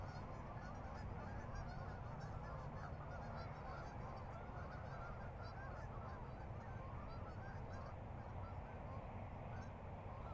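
Geese honk repeatedly in a park, their calls overlapping in a busy, continuous flock chorus at moderate distance without talk.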